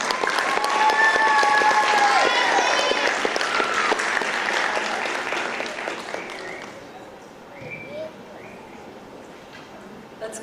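Applause from the audience at a Lamar County Schools board meeting, loud and dense at first and tapering off over ten seconds, with a few voices and cheers mixed in.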